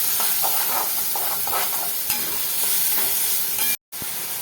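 Biryani masala with garlic and onion paste sizzles and fries steadily in hot oil, a close, continuous crackle with stirring scrapes throughout, cutting out briefly near the end before resuming.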